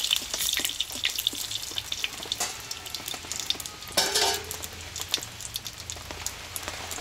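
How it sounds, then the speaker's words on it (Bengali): Dry red chilli, bay leaf and whole cumin fry in hot oil as a Bengali tempering, giving a steady close crackling sizzle with scattered sharp pops throughout, no voices. "এই ফোড়নটা একটু ভেজে নেবো আমি।"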